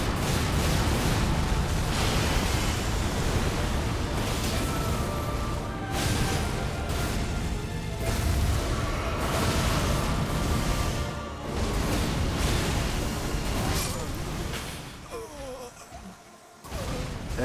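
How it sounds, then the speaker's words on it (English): Area-of-effect explosions in an Elden Ring Shadow of the Erdtree boss fight against Consort Radahn: dense, loud, overlapping blasts and bursts of game audio that roll on almost constantly, easing briefly near the end. "Everything's just an AoE explosion."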